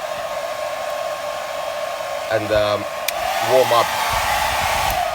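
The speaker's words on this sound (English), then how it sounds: "So take your hairdryer" A steady hair dryer whooshes throughout, warming a wheel rim protector to soften it, with a few brief spoken words and soft clunks over it.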